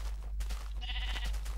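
A sheep in Minecraft lets out a short, wavering bleat about midway through, heard fairly clearly against a steady low background hum.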